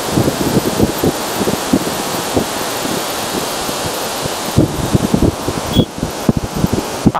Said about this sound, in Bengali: হাওয়া প্রচুর জোর হাওয়া দিচ্ছে